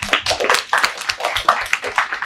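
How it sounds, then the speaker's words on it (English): A few people in a school classroom give a short, scattered round of claps, sharp and uneven, at moderate loudness. "And give a round of applause first."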